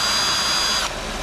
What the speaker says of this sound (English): All I do is chuck it up into a 1/2 inch drill